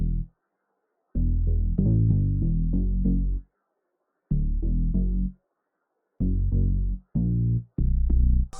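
The Bass Kelm synth bass preset from Analog Lab plays a deep, warm riff in short phrases of rhythmic notes separated by gaps of silence, close and solo.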